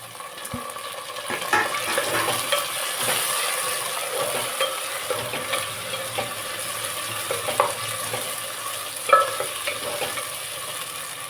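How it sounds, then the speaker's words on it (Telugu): Onions and tomatoes frying in a pan with salt for chicken biryani, a continuous close sizzle broken by repeated scraping stirs and occasional utensil knocks. "ఆనియన్స్ వేగిపోయండి టమోటా వేసుకుందాం"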